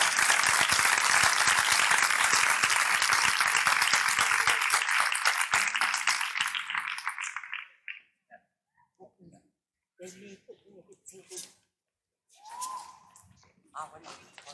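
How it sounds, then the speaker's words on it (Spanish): Dense audience applause at a commemorative poetry event in Dos Hermanas, loud and sustained for several seconds before fading out, followed by scattered murmurs and voices in the room. "Un aplauso para ellas y para él."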